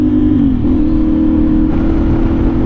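A CFMOTO 450SS motorcycle with a slip-on exhaust accelerates, its engine a loud, close, steady drone whose pitch rises slightly, dips briefly, then climbs again.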